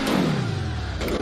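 A motorcycle engine in a GTA video game revs hard and then winds down, its tone sliding lower as the throttle drops before a brief rise near the end, loud and close with no speech.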